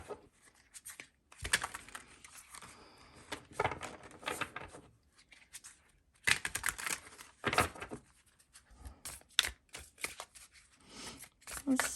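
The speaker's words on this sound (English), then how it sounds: "Let me go ahead and shuffle real quick." Oracle cards are shuffled in quick riffling bursts with short pauses between, close and crisp, with no talking.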